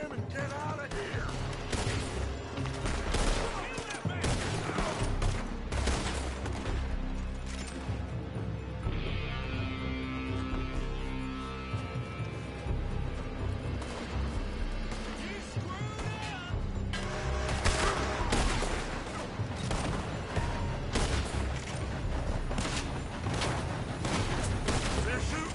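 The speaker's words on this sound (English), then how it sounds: "They're shooting from that building." Dense gunfire from the Red Dead Redemption 2 video game, with rapid overlapping shots and bursts continuing for the whole stretch, mixed with game sounds and occasional voices.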